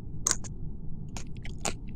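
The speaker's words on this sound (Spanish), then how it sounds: "Que se escucha hasta acá lo que masticas." Someone chews food loudly close to the microphone, a few crisp crunching bites spaced irregularly over a low steady background, with no speech.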